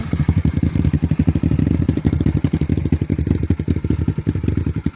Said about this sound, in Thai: ฟังเสียงเครื่องเลยครับผม